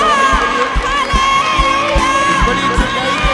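A congregation at a big Sunday church meeting cheering and shouting in praise, a loud crowd roar of voices with a rhythmic pulse of clapping and drum-like thumps, dense and close throughout.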